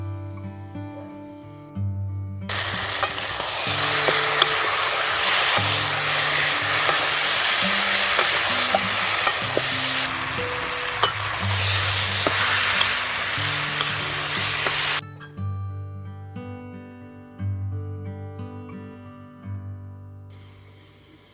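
Chicken kosha with garlic and chopped tomato sizzles loudly in a pan while a spoon scrapes and stirs, with soft background music before and after the frying.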